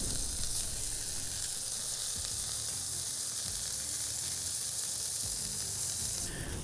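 Venison smash burgers sizzle steadily on a cast-iron surface over an outdoor fire pit, a loud continuous frying hiss with no talk, easing slightly near the end.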